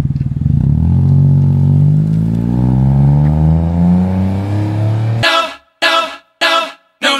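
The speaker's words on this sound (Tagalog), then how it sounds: "Ito yung kinabit natin sa kanya na muffler. Spoon muffler." A Toyota Wigo fitted with a budget Spoon exhaust muffler revs close by, a loud sustained rising engine note, then three short sharp blips with silent gaps between them.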